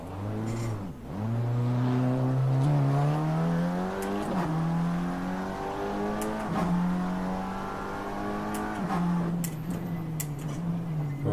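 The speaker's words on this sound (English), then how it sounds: "Oh, it's that bloody Audi again." An Audi race car laps the Nürburgring Nordschleife during a two-hour race, its engine note rising and falling through gear changes, loud and close, holding a steady roar with no talk over it.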